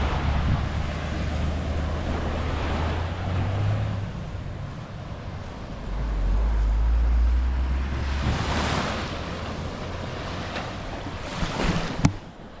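Surf from the sea rolls onto the beach at Playa Guayanes in Yabucoa, Puerto Rico, with broad steady wave wash and heavier swells building and breaking, under gusty wind buffeting the microphone and no talking.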